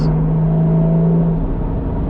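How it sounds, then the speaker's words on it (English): Engine of a manual Porsche 981 Cayman GTS running with seized exhaust valves, a close, loud steady drone with a low tonal hum that fades slightly near the end. "Sometimes the exhaust valves do seize, as you can hear."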